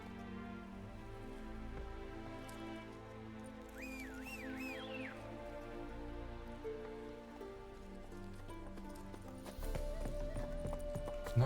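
Horse Roach hoofbeats in The Witcher 3: Hearts of Stone, a steady clip-clop over a continuous game music bed, with a short whinny midway and the pace picking up toward the end.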